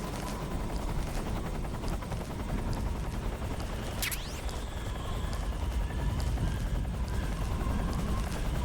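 A Hind D attack helicopter in the Metal Gear Solid 3 video game, its rotor thrumming in a steady low pulse amid dense game noise and scattered gunfire bursts, with no speech.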